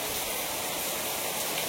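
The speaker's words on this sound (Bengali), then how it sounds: "পানির আওয়াজ হচ্ছে ঝুমঝম করে।" Heavy rain pours down in a dense, even roar of hiss that stays loud and unbroken from start to finish.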